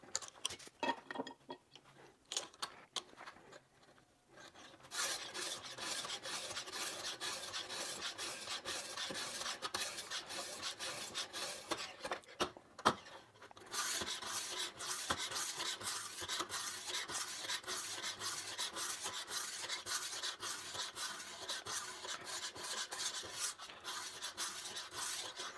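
A knife blade being sharpened on the 1500 grit stone of a Wasabi Ruixin Pro sharpener: rapid, regular rasping strokes scraping back and forth close up, a few slower passes at first, then a steady rhythmic run.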